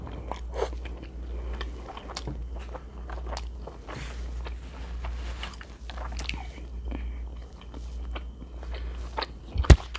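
Close, crunchy bites and wet chewing of keto food coated in a homemade seasoned sauce, irregular crackly mouth sounds over a steady low hum, with no talking and a sharper clack near the end.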